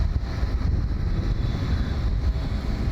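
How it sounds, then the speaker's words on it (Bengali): Wind rushes over the microphone during a boat ride past Gulshan toward Rampura, a loud, steady low rumble with faint engine and water noise beneath. "বাতাস বইছে"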